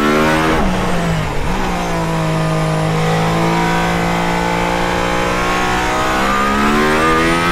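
A loud engine of a Mercedes-AMG ONE hybrid hypercar revs hard through a turn, pitch dipping briefly then climbing and holding steady as it accelerates, close and continuous.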